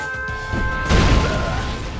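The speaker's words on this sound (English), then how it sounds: "nuclear missile launched" A nuclear missile launch and blast from the Black Missile Mod strategy game: steady tonal hum, then a heavy, loud boom about a second in that rumbles and decays without fading out.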